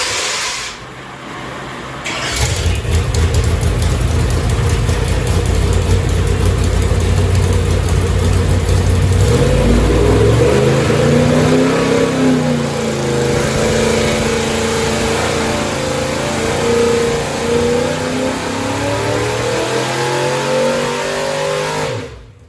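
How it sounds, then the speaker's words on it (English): A big 496 cubic inch V8 engine on a dyno revs hard and loud, climbing and falling in pitch through repeated throttle pulls, then settling into a steady rumbling roar. "Here is a video of that 496 on the dyno in case you want to hear it again"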